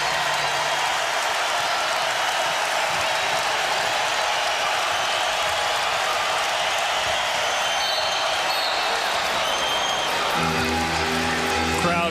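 A college basketball arena crowd at Minnesota vs Wisconsin, 2017, roars loudly and continuously after a Wisconsin basket, a broad sustained wash of cheering with rhythmic clapping and stomping near the end.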